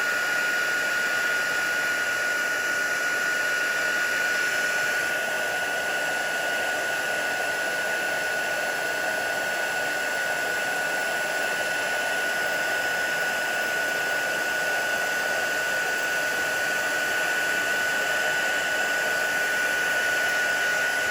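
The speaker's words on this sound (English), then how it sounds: "And a quick blast all over just to make sure you've got everything." Heat tool blowing hot air over a stamped greeting card with embossing powder, a constant loud fan whir with a steady tonal whine running unbroken for about twenty seconds.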